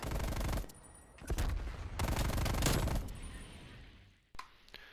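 Sustained bursts of automatic fire from a Stoner 63 light machine gun in Call of Duty: Black Ops Cold War, loud and dense in two long volleys with brief gaps and a sharp shot near the end.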